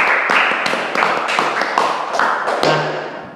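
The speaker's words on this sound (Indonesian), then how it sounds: "Tepuk tangan lagi." Close, loud applause from a small group, with dense, irregular claps and thumps layered over a steady hum for about three seconds.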